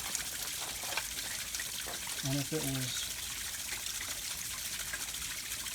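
Water sprays off a small pico hydroelectric waterwheel as a steady, close broadband hiss that runs the whole time, with a voice speaking briefly over it.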